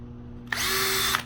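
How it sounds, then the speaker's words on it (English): A power drill briefly spins up close by while marking screw holes in a low-budget DIY PLC trainer output board, a single loud burst of under a second with a steady whine, no talking. "we're going to mark the holes. Don't drill it too deep"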